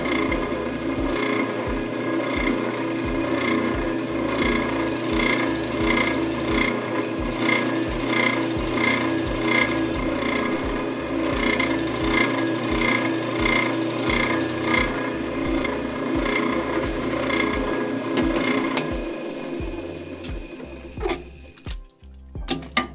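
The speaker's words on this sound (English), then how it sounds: "I've clamped this in place. We're going to drill this through." Drill press boring through a clamped wooden workpiece, a loud continuous motor drone with rhythmic pulsing as the bit cuts, sustained for around twenty seconds before winding down into a few clicks and rattles.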